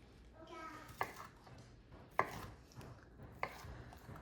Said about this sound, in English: Let me slide the rest of this turkey over so we can take a little slice